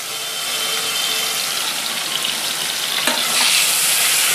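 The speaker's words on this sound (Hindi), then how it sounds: "प्याज फ्राई हो गई है और अब मैं इसमें लहसुन डाल के फ्राई करूंगी." Garlic added to onions frying in a pan for mutton achari, giving a steady close sizzle with a brief stirring clatter near the end, no talk.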